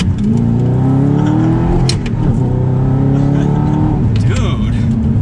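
A manual Audi R8 in sport mode accelerates hard, its engine roaring loud and close with rising revs and a shift partway through, while someone talks over it.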